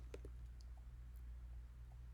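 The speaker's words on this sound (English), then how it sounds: "I'm going to type in these numbers" Numbers are typed on a computer keyboard as a few quiet, scattered clicks over low background hum in a quiet room.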